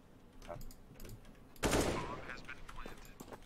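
Rapid gunfire from a Counter-Strike competitive match, a sharp loud burst of shots followed by scattered quieter shots over faint background talk.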